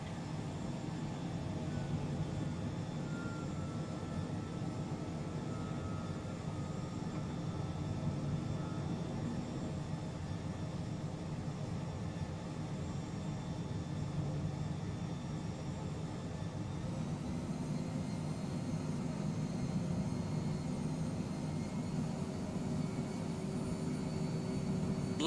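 Steady, loud airliner jet engine drone in a flight simulator game during approach with flaps set and landing gear down, continuous for the whole stretch with a slight rise in tone partway through and no talking.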